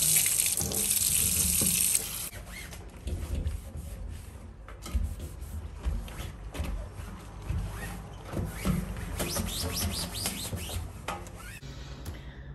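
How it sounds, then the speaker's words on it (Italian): Water runs and splashes into a kitchen sink to rinse away citric acid and dish detergent, loudest at the start, then a steady stream with clatter and rubbing sounds close by. "Dopo non ci resta solo che risciacquare con l'acqua"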